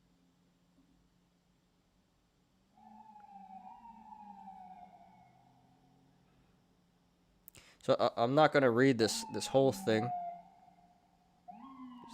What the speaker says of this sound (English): These damn sirens